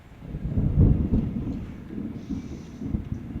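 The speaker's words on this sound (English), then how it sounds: "Oh, I hear the thunder." Low, distant rumble of thunder rolling across an outdoor creekbed, swelling briefly then fading into a soft, steady background murmur.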